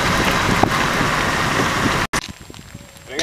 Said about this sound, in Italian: anche adesso sta piovendo, anche se poco